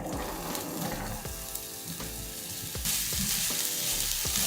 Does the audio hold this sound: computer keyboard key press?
no